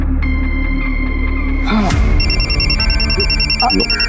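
A phone rings with a repeating electronic ringtone, steady bursts of tone above a low hum, with a brief clatter partway through.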